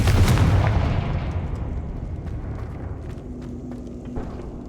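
A loud, booming Confringo fire spell blast from the video game Hogwarts Legacy erupts at the start and rumbles away into a long fading roar, with faint crackles after it.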